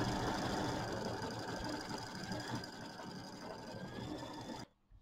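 A sewing machine stitches a Kimberbell mini quilt in a steady, close, continuous whir with faint mechanical ticking, running without pause for several seconds before stopping abruptly near the end.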